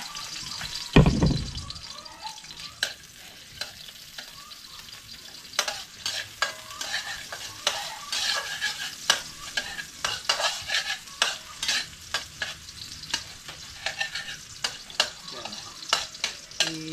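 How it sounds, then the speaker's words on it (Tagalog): Garlic fries in a pan, sizzling softly after a loud clank at the start, while a utensil scrapes and stirs in repeated close strokes. "Ano lang natin tong bawang, imikos-mikos lang natin to hanggang sa maano siya, magkulay brown"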